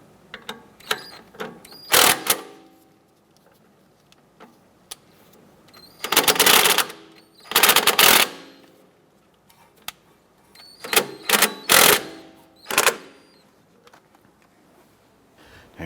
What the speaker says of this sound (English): Just going to switch over to our impact gun here to speed things up.